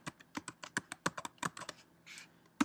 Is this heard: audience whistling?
no